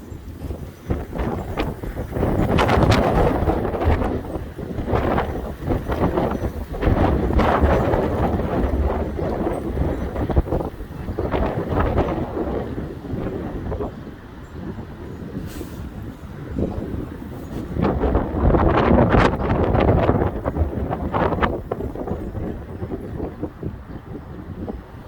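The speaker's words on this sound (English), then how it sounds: "Straight line wind right there." Strong gusty straight-line wind roars and buffets a nearby microphone in surging waves, easing briefly midway before building loud again.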